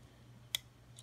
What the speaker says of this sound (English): if I click that way, you can hear it click.